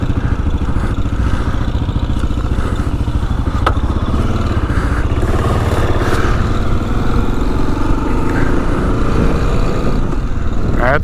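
A 2022 Kawasaki KLR 650 dual sport motorcycle's single-cylinder engine thrums loud and close as it rides, with steady chugging and some wind buffeting throughout.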